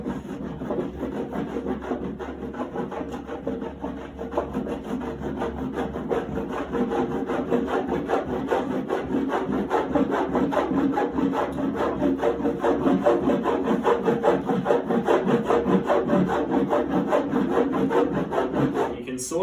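Surfboard wax rubbed steadily back and forth across a board from rail to rail, a continuous close scraping rasp with a quick regular stroke rhythm that grows slightly louder over time.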